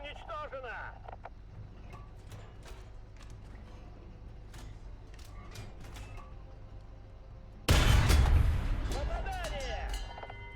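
A tank in the video game Object 120 fires a large sabot shell, one sudden heavy blast near the end that fades slowly, after a long stretch of quiet mechanical creaks and clicks.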